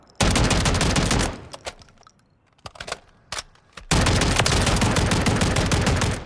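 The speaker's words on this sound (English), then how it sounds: "That's our AR-410 shotgun." AR-410 shotgun firing in the video game Call of Duty Modern Warfare III, two long bursts of rapid, loud automatic blasts separated by a few scattered single shots and near-silence.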